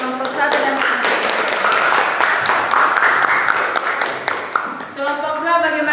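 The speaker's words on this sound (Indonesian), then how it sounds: "berikan tepuk tangan untuk kelompok 1 dan" Classroom of students clapping for group 1 during a quadratic equations lesson, a loud, fast run of close hand claps lasting several seconds, with a voice speaking over the end as the applause thins.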